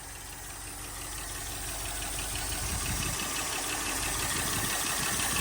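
A V8 engine in a Toyota Hilux truck, revived after sitting for a decade, idles steadily up close, a low rumbling churn with a faint rhythmic knock, running on its own without talk.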